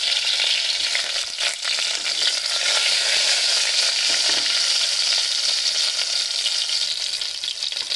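Stuffed brinjals (gutti vankaya) go slowly into hot oil for a curry, setting off a loud, continuous crackling sizzle close by that runs unbroken without any voices.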